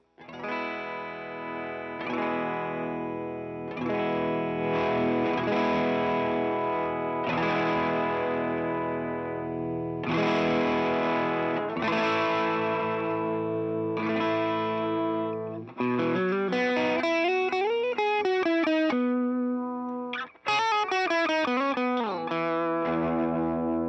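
A 1960 Fender Custom Shop Stratocaster electric guitar plays sustained, distorted chords with a chorus-like shimmer, ringing out in several strummed blocks before bending into a run of sliding, wavering notes, loud and alone with no talk.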